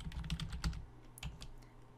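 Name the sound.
typing on a computer keyboard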